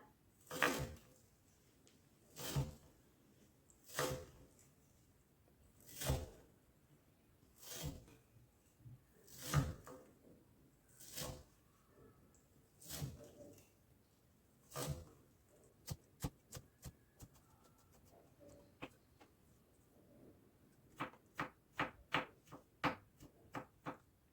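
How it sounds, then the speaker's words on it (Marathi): A knife chops ginger rhythmically on a board, steady single strikes at first, then quicker bursts of rapid chopping toward the end, close up and clear. "तुम्ही जो हा चॉपिंगचा आवाज येतोय ना तो एन्जॉय करा"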